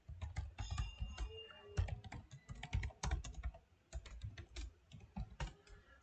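Rapid typing of code on a computer keyboard, a steady stream of close, crisp key clicks in irregular bursts with brief pauses, no talking.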